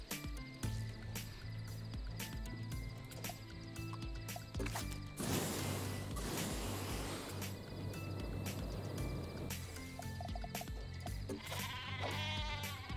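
A sheep bleats in Worms Revolution near the end, a wavering call heard over loud game music, after a burst of crashing explosion noise in the middle.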